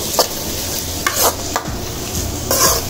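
Pepper chicken curry masala sautéing in a pan: steady loud sizzle with several sharp stirring scrapes of a spoon against the pan, no voices.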